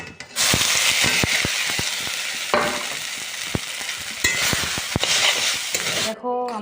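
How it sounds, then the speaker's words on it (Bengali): Loud, steady sizzling of chilies and instant noodles frying in a pan, with repeated scrapes and clinks of a spatula stirring, continuing for several seconds. "লঙ্কা ভাজা হয়ে গেছে এখন দিয়ে দেবো ম্যাগি"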